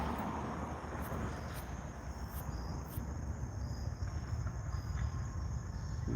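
Insects chirp outdoors in a steady, faint drone, with a few sharper chirps pulsing near the start and no talking.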